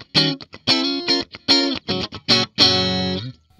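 Fender Rocky Stratocaster electric guitar played through its neck and middle pickups with effects and distortion, loud funky chopped chords and short bursts in a syncopated rhythm, ending on a sustained ringing chord, with no voices.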